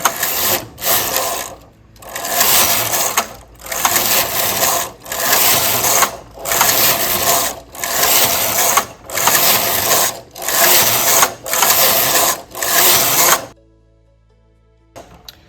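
A domestic knitting machine knits a punchcard pattern, its carriage sliding back and forth in loud, regular rattling passes separated by short pauses, before the noise stops near the end.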